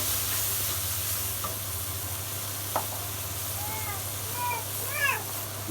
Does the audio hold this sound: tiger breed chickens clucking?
no